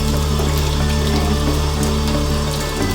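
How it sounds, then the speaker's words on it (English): Steady tap water runs over a makeup brush held downward and rubbed by hand under the stream, a continuous close hiss with a faint low hum beneath it and no voices. "Then getting my hand, I'm running it in the water."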